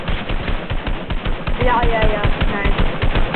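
Rapid video-game gunfire in Fortnite, a steady stream of loud shots and bursts filling the clip, with a player's brief spoken reactions over it.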